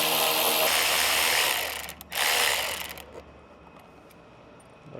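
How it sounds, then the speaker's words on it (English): A 10mm socket ratchet on an extension clicks steadily while loosening airbox screws on a Kia K5 1.6L turbo, close and loud, with a brief pause before a second run of ratcheting that then stops. "We're going to use a 10mm socket with an extension. We're going to go ahead and loosen them."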